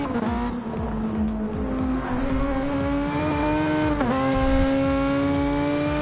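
Race cars lapping a track in a Formula GT racing video game at Spa, producing a loud, continuous engine drone whose pitch rises and falls as the cars shift and brake, with several engines overlapping.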